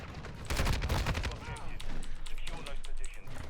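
Rapid video-game gunfire from a Lachmann-556 assault rifle, bursts of sharp cracking shots early, then scattered shots over a busy game mix.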